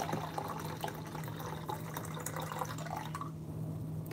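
Film developing chemical poured back into a large container, a continuous close trickle and splash of liquid with a low steady hum beneath, tapering off near the end.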